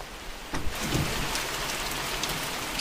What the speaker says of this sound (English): You hear the rain, right?